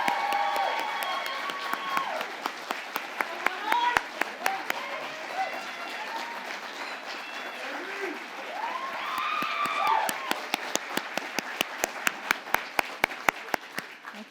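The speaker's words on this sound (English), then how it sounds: "So if we could give them a round of applause." A school celebration audience applauds its high school finalists: scattered claps build into brisk, uneven clapping over a murmur of crowd voices and some talk.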